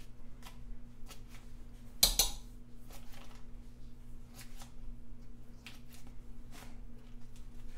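Knife chopping meat into small cubes on a board, a steady series of short, crisp taps and scrapes at close range with one louder clatter partway through, over a low kitchen hum.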